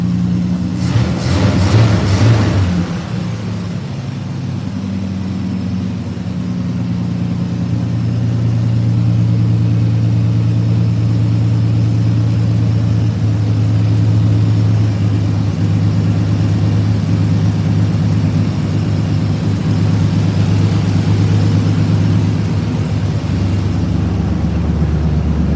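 A loud, raw 4.3 V6 engine in a 1986 Silverado truck, running with no exhaust, idles steadily for a long stretch with a harsh, droning rumble, after a brief rev or clatter at the start.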